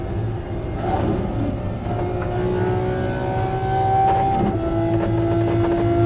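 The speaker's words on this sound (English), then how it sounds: "Let's go for a run with the Lamborghini." A Lamborghini race car engine drones steadily in the Assetto Corsa Competizione racing game, a continuous loud hum with rising whining tones as it accelerates, alone with no talk.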